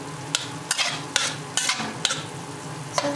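Curry paste and onion frying in a pan while being stirred, a steady sizzle broken by regular scraping strokes of the utensil about every half second, close and continuous.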